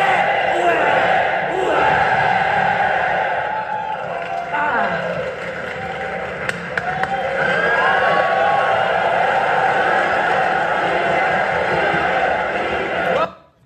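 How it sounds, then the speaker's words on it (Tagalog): A large crowd at a rap battle roars and cheers continuously, loud and sustained, with shouts and whoops rising above the din before it cuts off abruptly at the end. "Grabe yung energy ng crowd."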